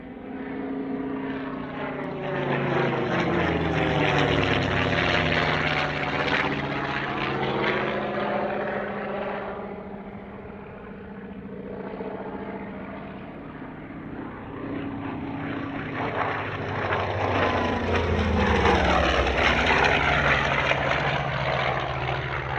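Focke-Wulf Fw 190 fighter flying at an airshow, its loud piston engine and propeller drone swelling, fading, then rising again with a Doppler sweep as it makes passes overhead.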